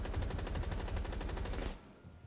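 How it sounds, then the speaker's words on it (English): Rapid automatic gunfire in the video game Rainbow Six Siege rattles loudly and continuously for nearly two seconds, then stops abruptly, leaving a quieter background. "Dude, are you just blindly firing into that breach?"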